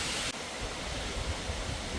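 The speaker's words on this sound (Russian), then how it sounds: "Короче, водопад офигенный." The Rufabgo waterfall gives off a steady, loud, broadband roar of rushing water, dense and unbroken throughout, with no voices.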